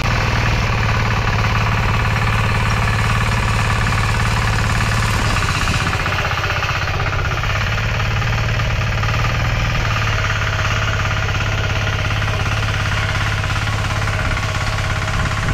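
A diesel walk-behind tractor tills a straw-covered field, its engine running loud and close with a continuous rough, knocking drone that stays steady throughout, with no voices.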